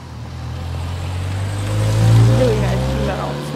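A car engine drones steadily with a low hum, swelling briefly louder as it revs, then settling; faint voices murmur underneath.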